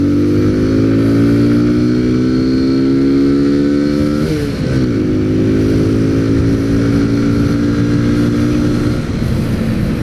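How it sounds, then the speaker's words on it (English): A 2017 Kawasaki Z125 Pro motorcycle being ridden, its small engine droning loudly and steadily with a rising pitch as it accelerates, a brief dip and shift near the middle, then holding speed. "this is the 2017 Kawasaki Z125"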